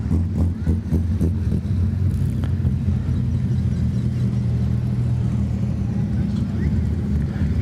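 Wingless sprint car engine droning at a dirt speedway as the car drives away after a feature race win, a steady loud rumble that sits under continuous crowd noise and a track announcer talking.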